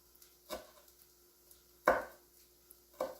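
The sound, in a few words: knife cutting leaves into chiffonade strips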